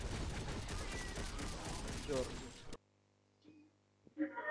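Rapid pistol gunfire from a first-person shooter video game, a dense burst of shots for nearly three seconds that cuts off abruptly, followed by quieter game effects and a brief voice.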